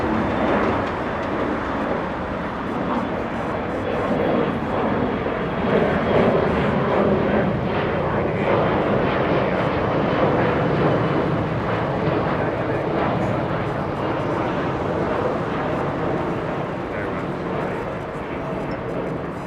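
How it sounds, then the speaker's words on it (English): A SkyWest Embraer E175 jet takes off at LAX, a broad steady engine roar that swells slightly mid-way and holds at moderate distance, with a voice talking over it throughout. "Departure lifting off right now."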